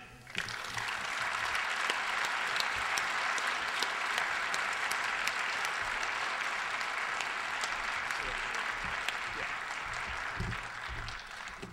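A large audience applauds steadily at a political conference as John Tate is welcomed to the stage, a dense continuous wash of clapping that holds loud throughout before easing slightly at the end.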